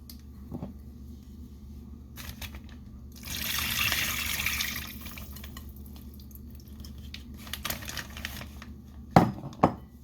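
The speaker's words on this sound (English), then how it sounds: "Just pour it on in that bag." Honey garlic marinade poured from a container into a bag of raw chicken thighs, giving a soft, wet, splashing pour that swells in the middle and ends with a couple of sharper knocks.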